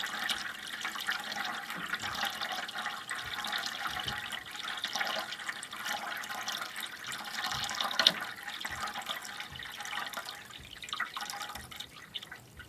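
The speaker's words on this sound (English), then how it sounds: "you just keep letting it run until the water basically runs out or runs really slow" Water running steadily through the pipes of a home boiler system as it is drained and refilled, a continuous broadband trickle and hiss with small drips and gurgles throughout, moderately close and alone.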